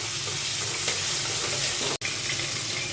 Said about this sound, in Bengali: চিংড়ি মাছটা আগে তেলের উপর একটু ভাজি করে নিলাম।